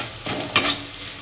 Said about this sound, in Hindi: इसको थोड़ी देर भून लेंगे और मैं इसमें अब टमाटर डाल दूँगी।